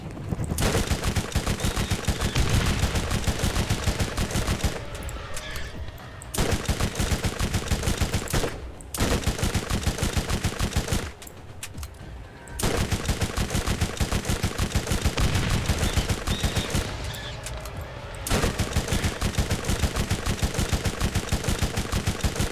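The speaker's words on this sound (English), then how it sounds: "Go to the explosive machine gun." An explosive machine gun in Borderlands fires rapid, loud, sustained bursts, with several long stretches of continuous automatic fire broken by brief pauses between volleys.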